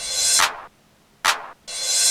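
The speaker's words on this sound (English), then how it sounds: "the clap and the snare are going to be fighting and muting each other off." Drum machine clap cutting off the snare: two short bright percussive hits, a clap-like burst that chokes off abruptly, followed by another sharp hit starting as the first cuts out.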